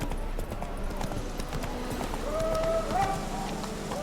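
Roach the horse galloping in The Witcher 3: Wild Hunt, steady rapid hoofbeats driving close and loud over game music, with a voice speaking in the game.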